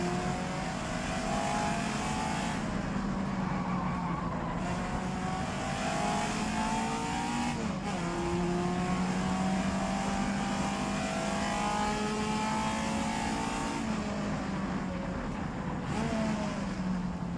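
A race car engine, a Porsche 910, accelerates during Targa Florio practice. It holds a loud, continuous in-car drone that climbs and drops through repeated gear changes with no talking over it.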